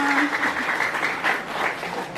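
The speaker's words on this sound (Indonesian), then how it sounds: "Tepuk tangan dong untuk saudara semua." A crowd claps at a traditional ceremony in the villages of Welutu and Rumasalut, brief applause mixed with voices.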